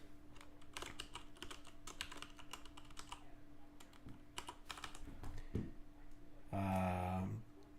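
Computer keyboard typing while names are entered into a generator during a live stream, with rapid, uneven clicks and short bursts of keystrokes running through most of the clip, fairly close and moderately quiet, over a steady hum, ending in a brief louder tonal sound.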